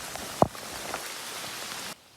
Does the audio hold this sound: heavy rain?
yes